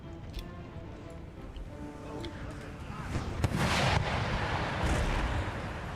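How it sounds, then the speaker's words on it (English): Artillery thunders across an Empire: Total War battlefield as cannon fire strikes a chief's cavalry bodyguard, rumbling booms and sharp cracks building louder over a low battle din, with someone talking at the start. "And more cannon hits on the Chief's bodyguard"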